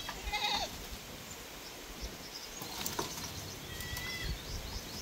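A goat on a small farm bleats faintly and briefly a couple of times, distant and thin over a steady outdoor hiss of wind and rustling.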